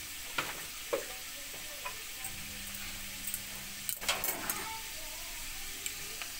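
Carrots fry in a pan with nigella seeds, salt and turmeric, giving a soft steady sizzle broken by scattered stirring clicks and scrapes of a utensil, close and fairly quiet.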